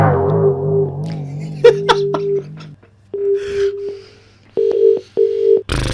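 A telephone line plays a series of dialing and signal tones for a radio prank call, steady beeps and short repeated pulsed tones, loud and close, with no speech.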